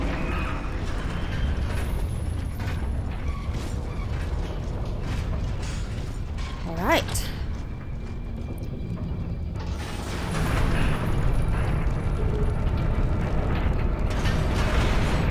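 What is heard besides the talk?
lever mechanisms operated in Gears of War 2 video game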